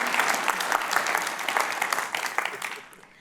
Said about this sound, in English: Yes, let's give that a round of applause